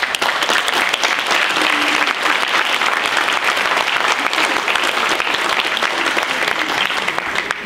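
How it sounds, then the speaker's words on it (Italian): Sustained audience applause fills a hall at a twentieth-anniversary celebration of a care home and disability centre, dense and steady throughout with a loud even wash of clapping and no break. "E io chiedo un applauso per Vesna."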